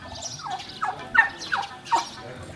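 Several farm turkeys gobble in quick succession, about five rapid warbling calls spaced roughly half a second apart, fairly close and clear over a quiet background.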